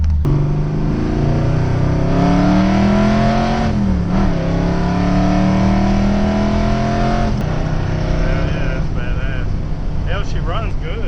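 A 1971 Mercury Comet GT with a 347 engine idles and revs in the rain, a loud, close, continuous engine rumble with rising and falling pitch and a brief dip midway.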